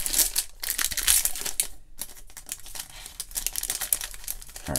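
Crinkling and tearing of a 2019 Bowman baseball card pack wrapper, close and busy, with rapid crackly bursts, a brief pause near the middle, then more crumpling.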